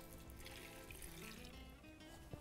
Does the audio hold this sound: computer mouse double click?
no